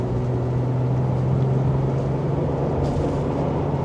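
A Nissan Frontier PRO-4X pickup with a naturally aspirated V6 drives along a winding back road, its engine a steady low drone with road rumble throughout, continuous and close with no talking.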